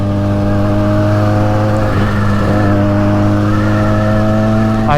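A Benelli TNT 300 motorcycle engine drones steadily and loudly while riding, close up, with a strong humming tone that rises briefly as the rider throttles. Wind rush fills the background, and no one talks.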